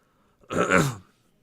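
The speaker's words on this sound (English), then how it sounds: "There's the coughing." A single short cough-like burst, loud and close, lasting about half a second in an otherwise quiet moment, heard during a Dota game patch review.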